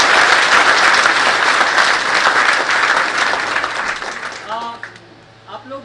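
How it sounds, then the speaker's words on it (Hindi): An audience at an Oriens success event bursts into loud, sustained applause that gradually fades away, and a voice begins speaking just as the clapping dies down. "तो एक बार जोरदार खुद के लिए ताली हो।"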